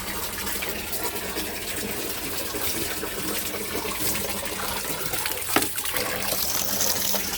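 Water poured over a dog: a steady, moderately quiet gush of splashing liquid runs continuously with no talk, with a brief sharper splash partway through.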